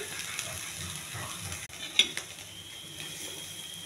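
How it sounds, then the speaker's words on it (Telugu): Chickpeas sizzle steadily in a hot pan while a spoon stirs the tempering, with a sharp metallic clink of utensil against pan midway and no talking. "ఈ శనగలు ఇలా తాలింపు చేసుకుని"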